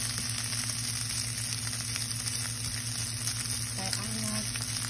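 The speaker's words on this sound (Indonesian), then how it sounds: "Kita goreng lagi." Food sizzles steadily in a hot pan while a Roti John wrap is being made, with a constant close frying hiss throughout and a brief stirring clatter near the end.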